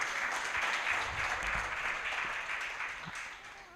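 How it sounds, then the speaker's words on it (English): An audience at a benefits launch event claps steadily in a warm, sustained round of applause that fades slightly toward the end, with a faint voice underneath. "Please give her a hand clap"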